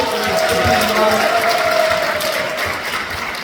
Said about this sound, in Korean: 다시 한번 박수 한번 드리고